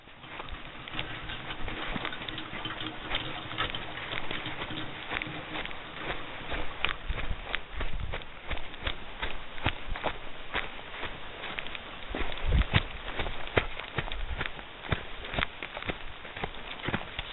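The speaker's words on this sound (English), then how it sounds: "I'm going for a walk in the rain" Footsteps crunch and pat along a woodland trail in December rain, a steady walking rhythm of sharp close steps over a constant wash of wet ambience, with a few louder footfalls along the way.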